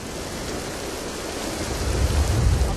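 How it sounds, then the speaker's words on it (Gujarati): Heavy rain pours down in Ahmedabad as a dense, continuous roar that grows slightly louder toward the end, with no voices. "અમદાવાદના દ્રશ્યો બતાવી રહ્યા છીએ કે જ્યાં વિધિવત રીતે વરસાદ જે છે તે વરસી રહ્યો છે"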